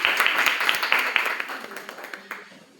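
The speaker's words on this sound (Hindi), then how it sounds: "आस्था वर्मा। जोरदार तालियां।" An audience claps for a student called to the stage for a speech competition at an Atal Bihari Vajpayee birth anniversary celebration. The clapping is scattered and moderately loud, then gradually fades away.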